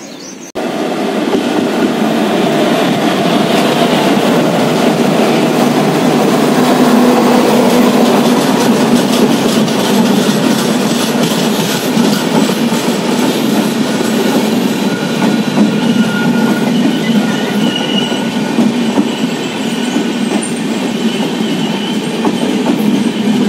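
The 50104 Ratnagiri–Diva passenger train runs at Sangameshwar station on the Konkan line: a loud, continuous rumble with rhythmic wheel clatter and faint squeals, heard close and with no voices.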